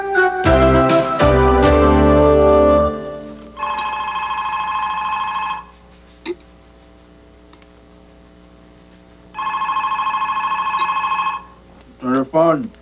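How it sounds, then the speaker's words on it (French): A telephone rings in two long, loud electronic bursts separated by a quiet gap, following a short stretch of music and voices at the start. "Téléphone."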